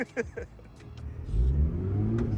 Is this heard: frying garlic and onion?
no